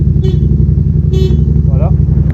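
A Yamaha MT-07 motorcycle's horn gives two short toots over the loud, steady rumble of its idling engine.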